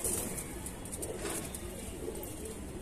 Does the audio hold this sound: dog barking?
no